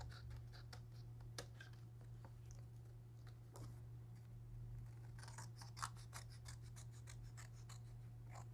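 Scissors snipping construction paper while trimming excess for a framed wall decoration, a run of crisp, irregular cuts close by, growing denser toward the end, over a low steady hum with no talk.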